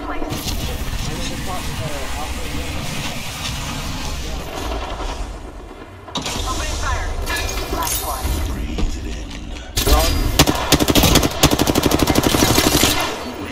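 Automatic and single gunfire from an Apex Legends match, with repeated loud bursts that run nearly the whole time, heavier toward the end, mixed with game effects and talk.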